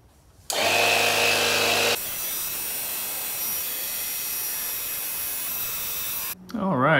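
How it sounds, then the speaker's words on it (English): A portable tire air compressor pumping up an inflatable, kicking on abruptly with a loud, steady whining motor drone that holds for several seconds before cutting off, with a brief voice at the end. "I wouldn't recommend pumping an inflatable like this with a tire air compressor, but it will get the job done"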